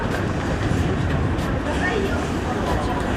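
A subway train rumbles through a station in Nagoya, a dense steady roar of wheels and motors with crowd noise and a murmur of voices underneath.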